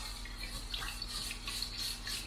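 Hands swish and stir rice in a bowl of water during home cooking, giving a faint, continuous sloshing and trickling with small splashes and no voices.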